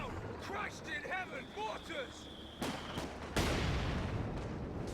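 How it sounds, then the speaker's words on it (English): A Land Mattress rocket barrage in Company of Heroes 2 erupts as a sudden loud roaring blast of launches and impacts near the end, following scattered distant battle noise under a caster's commentary. "Looks like he's lining up another land mattress barrage"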